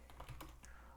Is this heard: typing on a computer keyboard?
yes